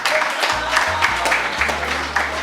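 Audience applause for a participant at a student debate, a dense wash of clapping with a steady low electronic hum underneath throughout.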